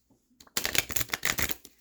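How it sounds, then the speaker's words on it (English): A deck of tarot cards is riffled and shuffled close by, a quick burst of papery flutters and snaps after a moment of quiet. "Let me shuffle these a few times."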